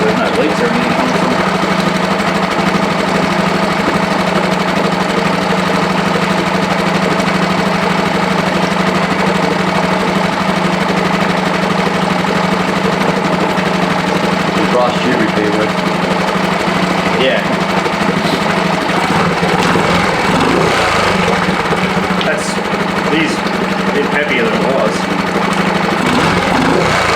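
Boat outboard motor running at a steady idle, a continuous close rough drone with a buzzing vibration throughout, with voices talking over it.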